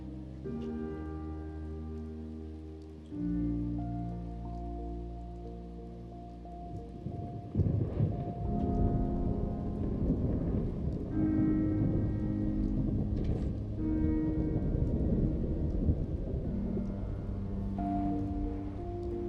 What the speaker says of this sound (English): I think I'm going to take a look outside at this storm.